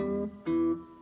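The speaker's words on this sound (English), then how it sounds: "I'm going to hit the top string with my thumb, and then I'm going to bend this little guy" A cigar box guitar's top string is plucked with the thumb, followed by a second plucked note given a subtle micro bend. The two short, close, moderately loud twangs ring out one after another with no voices.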